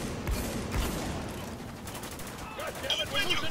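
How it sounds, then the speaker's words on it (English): Heavy gunfire in the Spec Ops: The Line video game, dense overlapping bursts of shots and explosions running continuously and loudly, with shouting voices mixed into the chaotic battle noise. "Taking heavy fire!"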